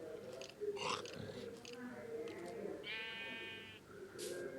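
A sheep in the video game Minecraft bleats, a short wavering call standing out clearly amid soft clicks and chewing-like game sounds, with a few faint voice sounds around it.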